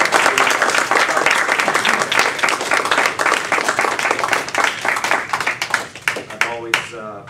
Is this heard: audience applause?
yes